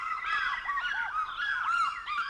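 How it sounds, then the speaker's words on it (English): A pair of African fish eagles trade loud, ringing calls at a lake with acacia woodland, several clear yelping notes rising and falling in quick overlapping bursts. "And a pair of fish eagles."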